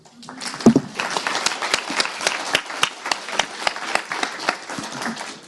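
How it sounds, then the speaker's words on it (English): Applause from a modest crowd, a steady patter of claps spread over several seconds, moderately distant, with a few sharper individual claps. "I think we should applaud."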